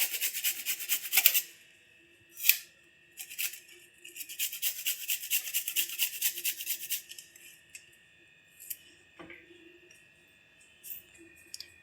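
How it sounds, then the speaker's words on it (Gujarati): Ginger and chopped green chili rubbed over a kitchen grater make quick, bright scraping strokes in bursts, separated by short pauses and light clinks, close and fairly quiet with no talk. "એ આવી રીતે આપણે ખમણીમાં નાખી દઈશું."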